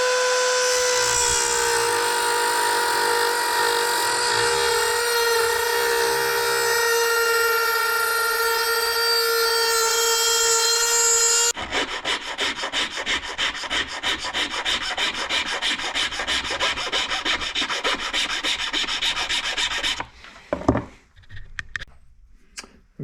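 A tool cuts a keyway into a gearbox shaft, first as a loud, steady high-pitched grinding whine, then a harsher rapid rasping buzz, ending in a few short scrapes and clatters.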